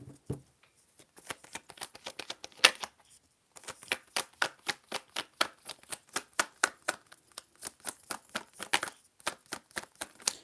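A tarot deck shuffled by hand, close and fairly quiet, with rapid rhythmic riffling bursts of card flicks, a short pause after the opening shuffles, then a longer steady run of riffles.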